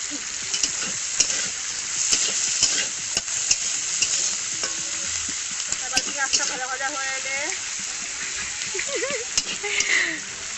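Chopped onions sizzle in hot mustard oil in a pan, a steady crackling fry broken by stirring scrapes, while a voice is heard faintly in the background partway through.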